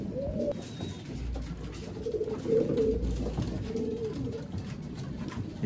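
Old-line pigeons kept for sale in Bangalore coo close by, several soft low rolling coos in a loose rhythm over a steady background hum.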